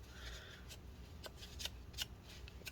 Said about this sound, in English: now I'm going to get another paper towel and just wipe that gunk off